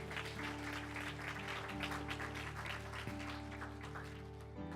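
A church congregation gives a sustained clap offering of praise, steady dense applause filling the room over held organ or keyboard tones, continuing evenly throughout.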